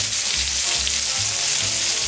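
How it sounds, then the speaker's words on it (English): Garlic sizzling in melted butter in a pan, a loud, steady, close crackling hiss with a few soft stirring bumps and no talk. "Put the garlic in that butter, baby."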